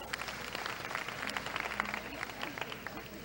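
An audience at a beauty pageant final applauds a contestant, fairly quiet, distant clapping with crowd murmur and voices underneath.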